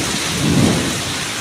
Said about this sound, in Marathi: तर पाऊस एकदम बेफाम लागता